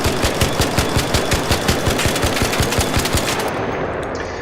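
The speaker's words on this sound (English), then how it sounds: "Let's just fire the gun, no aim control or anything, just kind of see how it fires just from hip firing it" The Bettina automatic rifle fired from the hip in a video game, a loud, rapid, even burst of about twenty shots that stops abruptly, leaving a brief fading tail.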